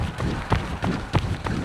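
Rapid running footsteps on a riverside path along the Han River in Seoul, steady quick cadence of regular thuds under continuous wind and ambient noise, close to the recorder.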